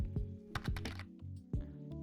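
Keys clack on a computer keyboard during a Java programming session, a handful of close, crisp taps in an uneven rhythm with short pauses between bursts, no talking.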